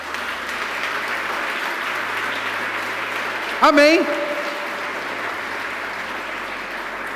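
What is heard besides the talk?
congregation applause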